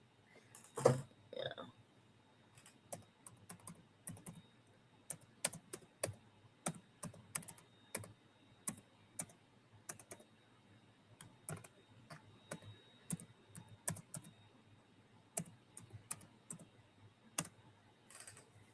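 Fast, irregular clicks of typing on a computer keyboard, each keystroke sharp and close, steady over the whole stretch with a faint low hum beneath and no talking.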